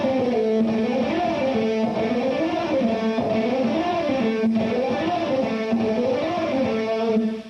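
Distorted electric guitar played fast with accented notes and double picking, a continuous run of rapid picked notes in a repeating rising and falling phrase, loud and sustained with no talking.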